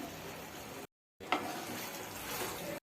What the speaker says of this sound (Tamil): நல்லா வதக்கிக்கிறோம்.